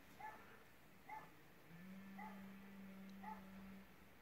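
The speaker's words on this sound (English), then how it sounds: "Some dog is barking." A dog barks somewhere outdoors in Melbourne, four faint, distant single barks spaced about a second apart, with a low steady hum in the background.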